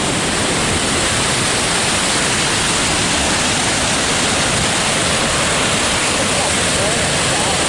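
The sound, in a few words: large waterfall on Lake Superior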